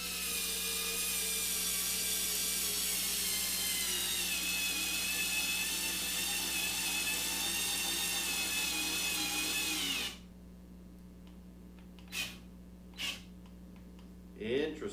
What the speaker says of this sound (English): let's try the new USB-Lithium driver